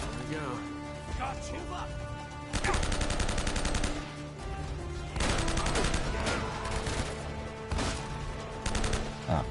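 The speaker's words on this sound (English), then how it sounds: "Why am I shooting at him?" Bursts of automatic gunfire in Uncharted 2 come in several loud, sustained volleys separated by short gaps, with game music and talk running underneath.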